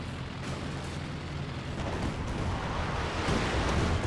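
Werfer rocket artillery barrage in a World War II strategy game, a dense, rumbling roar of explosions that swells steadily louder, with no talk over it.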